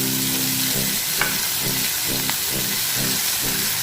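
Garlic paste and green chilies fry in hot oil in a pan, giving a loud, continuous close-up sizzle with a pulsing low churn and a couple of brief sharp ticks, and no voices.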